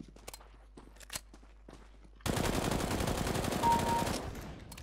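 Counter-Strike: Global Offensive gunfire: after a quieter stretch of soft clicks and steps, a loud, dense burst of rapid automatic fire starts midway and holds for about two seconds before easing off.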